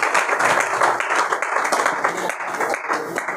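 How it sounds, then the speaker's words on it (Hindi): Audience applause in a hall at a drug rehabilitation centre in Delhi, steady broadband clapping from a crowd lasting a few seconds at a fairly loud level. "ताली तो बजा दे।"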